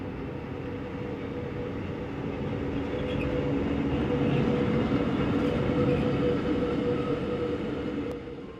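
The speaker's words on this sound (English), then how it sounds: "Departure from Chur is always a noisy and enthusiastic process." Glacier Express train pulling out of Chur station in Switzerland, a steady loud rumble of rolling rail wagons that swells midway and fades near the end, with no voices.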